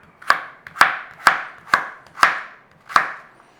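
A kitchen knife chops ham and vegetables into small cubes on a board, six sharp evenly spaced knocks about half a second apart, close and crisp, with no talking.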